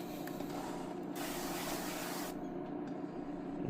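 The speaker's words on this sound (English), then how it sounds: "I have this avocado oil spray thingy I'm just gonna spray on there." A close, steady hiss of avocado oil spraying from an aerosol can onto a Lodge cast iron skillet, one continuous burst lasting about a second over a quiet background.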